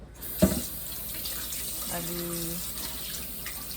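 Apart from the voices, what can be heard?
tap water washing vegetables in sink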